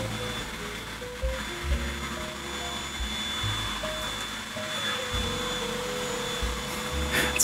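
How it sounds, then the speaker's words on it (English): A vacuum cleaner runs with a continuous whirring drone and low hum, holding fairly even and swelling slightly toward the end. "the vacuum's getting louder"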